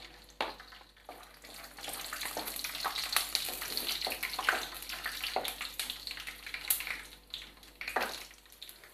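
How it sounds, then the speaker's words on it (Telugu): Peanuts fry in about three tablespoons of hot oil in a pan while tomato pulihora is being made, giving a steady crackling sizzle with scattered pops and stirring, close and moderately loud, with no talking. "ఆయిల్ వేడెక్కిన తర్వాత ముందుగా పల్లీలు వేసుకుందాం"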